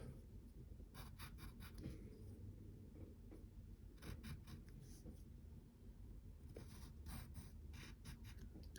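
A pen scratching lines onto paper while sketching Batgirl's belt: a string of short, dry strokes repeating in bursts, close and steady over a faint background hiss, with no voices.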